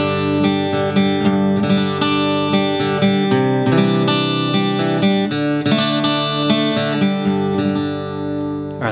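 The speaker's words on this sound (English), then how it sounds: "this guitar track is kind of interesting because it features a cross picking technique" Steel-string acoustic guitar picked with a plectrum in a steady cross-picking pattern, ringing chords with bright, evenly spaced note attacks for a song's intro, played solo and close with no voices.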